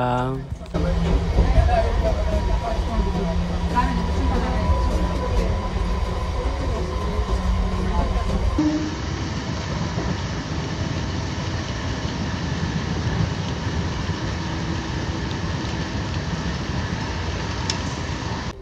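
A MEMU express train rumbles steadily toward Sullurpeta railway station, with rattling carriages and clattering wheels, loud and close, with some faint chatter early on; the noise shifts partway through.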